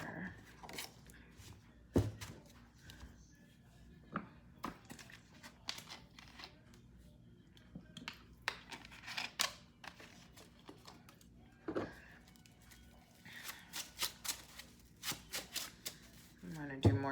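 Tarot cards are shuffled repeatedly in quick, crisp riffles and flutters, close up, with short pauses between bursts.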